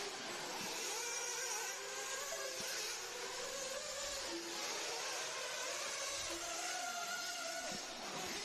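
A dirt racing car's engine revs hard and steadily at a distance, a sustained buzzing drone with slight rises and falls. No voices are heard.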